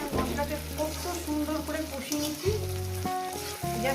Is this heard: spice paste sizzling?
yes